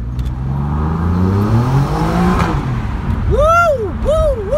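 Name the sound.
Alfa Romeo Giulia Quadrifoglio car engine accelerating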